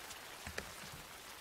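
Rain falls in a soft, steady hiss with a few faint drop taps, quiet and continuous with no talking.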